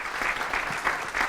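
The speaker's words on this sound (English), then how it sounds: "Give her a round of applause." Applause from a live business-event audience during a Q&A session, a brief burst of steady clapping with no voices.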